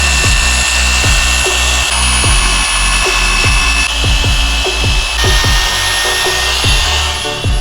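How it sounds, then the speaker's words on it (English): A power polisher buffs the oxidized paint of a V12 car, a steady loud machine whir with rhythmic thumps as the pad moves over the body, running continuously without talk. "Now he's going over the entire vehicle, doing a full polish on it."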